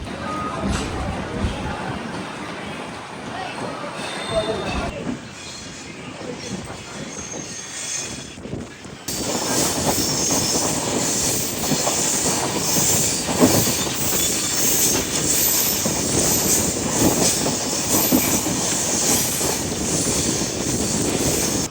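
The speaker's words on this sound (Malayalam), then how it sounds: "ഹിമസാഗർ എക്സ്പ്രസ് അങ്ങനെ അതിൻ്റെ ഫസ്റ്റ് സ്റ്റോപ്പായ നാഗർകോവിൽ ജംഗ്ഷനിലേക്ക് വന്ന് കയറിയിരിക്കുകയാണ്." Himsagar Express arriving at Nagercoil Junction, heard from on board as a continuous rumble of rolling wheels with clicking and squealing, growing louder and brighter partway through, with some talk in the background.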